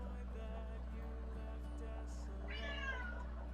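A pet cat meows once, a rising, harmonic cry standing out toward the end over a steady low hum and quiet room noise.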